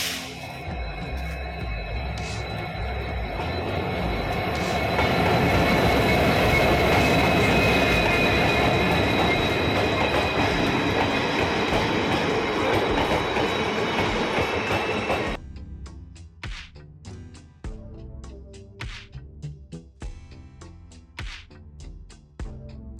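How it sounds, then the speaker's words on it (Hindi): A train arrives at a station. A loud rumble of wheels and carriages swells and holds, then gives way to scattered clattering and clunks as it slows. "तो अभी चलते हैं स्टेशन पे, पहुँचने वाली है ट्रेन बस।"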